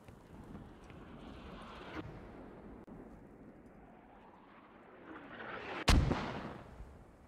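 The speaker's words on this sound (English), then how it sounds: "Mortars are so gorgeous." Mortar fire in the military shooter Squad rumbles at a distance under wind-like noise, with a sharp, loud explosion crack near the end that rolls off into a fading boom.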